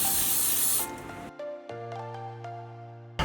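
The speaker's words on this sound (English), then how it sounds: "You can even spray it all out with WD-40." A short, close hiss of WD-40 spray cleaning out the gearbox of a Xinlehong/Hosim 9125 RC car, cutting off after about a second and followed by faint tonal hum and small clicks.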